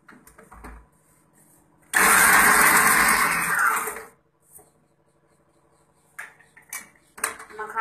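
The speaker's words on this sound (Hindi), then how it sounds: "अब मखाने पीस लेंगे।" A mixer grinder pulverizing makhana (fox nuts) roars loudly in one burst of about two seconds, then cuts off, followed by faint clinks and rattles of the jar and utensils.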